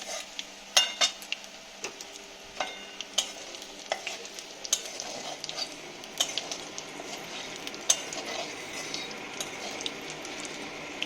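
Whole cumin and black cumin seeds fry in oil in a pan, giving a close, steady crackling sizzle broken by frequent sharp clicks and scrapes of a spatula stirring against the metal.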